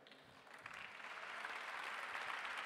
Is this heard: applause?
yes